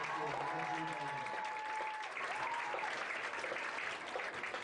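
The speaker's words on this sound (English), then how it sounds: "How about another round of applause for the Spirit of Sequoia?" A crowd applauds the Sequoia High School marching band, steady dense clapping and some cheers at a distance, with an announcer's voice briefly over the start.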